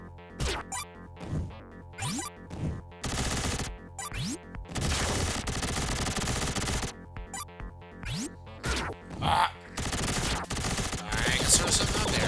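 Rapid-fire blasts in the Sega Genesis game Vectorman come in bursts with short gaps, mixed with electronic effects, springy boings and impacts, loud and up front with no speech.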